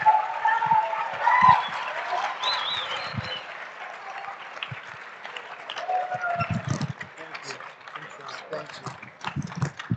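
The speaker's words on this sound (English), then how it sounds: "Let's give another round of applause to Governor Cox" An audience at a high school assembly claps with a crowd's loose, steady patter that rises and dips over ten seconds. It is of moderate level, with murmured voices mixed in.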